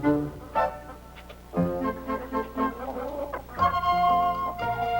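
Chickens clucking inside a chicken house, a series of close, fairly loud bursts of clucks and squawks in uneven rhythm, with no talking.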